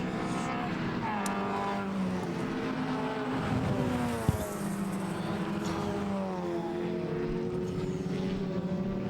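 An Alfa Romeo race car engine runs at a hill climb event, holding a fairly distant, steady droning note that rises and falls slightly. A brief sharp knock is heard midway.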